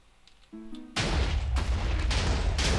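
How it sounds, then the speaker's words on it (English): A loud video game cannon blast erupts suddenly and keeps roaring as a dense, sustained rumble, preceded by a few faint electronic beeps. "And here goes the cannon."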